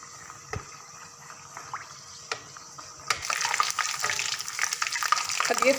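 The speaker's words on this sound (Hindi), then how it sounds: "लहसुन अदरक का पेस्ट, इसको हल्का सा फ्राई करेंगे" Garlic ginger paste frying lightly in a pan for dhaba-style dal makhani, faint ticks at first, then a louder, dense crackling sizzle that keeps going steadily.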